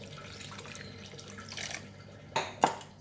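Water poured into a bowl of grated coconut mixed with a pinch of salt: steady faint splashing and trickling, then two sharper louder pours near the end.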